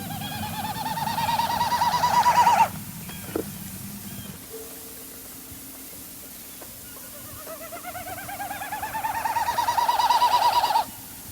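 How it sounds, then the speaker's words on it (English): Wilson's snipe calls from a prairie marsh, rhythmic repeated notes in two loud bursts at the start and end, with a quieter pause between; no talking. "our Wilson's snipe, which has that winnowing flight display."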